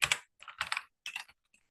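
A computer keyboard clatters as a short search term is typed into a Google Analytics 4 report, with three quick bursts of keystrokes close by and brief pauses between them. No voices are heard.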